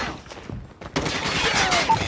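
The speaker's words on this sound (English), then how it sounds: "Be advised, hostile sentry gun spotted." Hostile sentry gun firing in Call of Duty: Mobile's Attack of the Undead mode, a dense, loud burst of rapid automatic gunfire that briefly dips and then surges again, continuous to the end.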